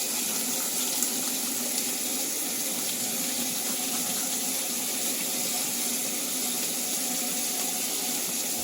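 Tap water runs steadily into a sink, a constant rushing hiss with no pauses, close by.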